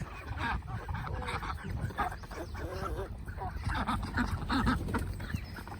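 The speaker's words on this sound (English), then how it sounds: "Hey, ducks." Ancona ducks quack and honk near a pond, a steady chorus of overlapping calls over a low outdoor rumble, with a person's voice briefly heard among them.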